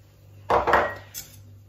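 Egg yolks beaten with a spoon against a bowl, a short burst of scraping, clinking strokes followed by one quieter tap, close and alone.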